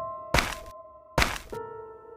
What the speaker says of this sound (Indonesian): Ini bunyi sesuatu atau seseorang seperti sedang melompat-lompat.